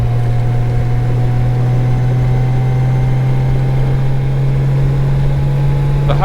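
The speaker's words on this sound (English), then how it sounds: "A lot of old car action here." Old cars idling and driving on a small-town street along the Lincoln Highway, a steady low engine drone with a constant hum that holds at an even level throughout, close by, with no talking.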